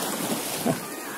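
Ocean waves wash at Cermin beach at dusk, a broad steady surf rush mixed with wind noise on the microphone and a brief voice.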